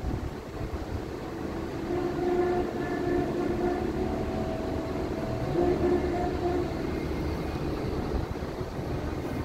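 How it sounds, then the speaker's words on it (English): A CSX work train rolls past in Fort Klein, Georgia, a steady rumble and rattle of rail cars with a faint tonal whine, fairly distant and sustained throughout, with no talk. "A work train?"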